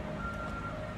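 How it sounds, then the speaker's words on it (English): A truck reverses at a home construction site, its steady backup beeper tone sounding faintly over a low engine rumble and broad outdoor noise for a brief moment. "Sorry for the noise. It's a truck right now."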